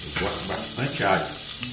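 Garlic sizzling in hot oil in a pan as pork trotters are prepared, a steady close frying hiss with soft stirring scrapes, while a voice talks faintly over it.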